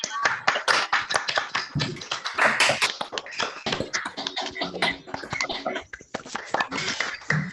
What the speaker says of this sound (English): we can just do a big round of applause, a big clapping right now